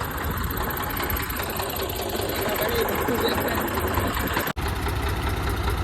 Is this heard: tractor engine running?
yes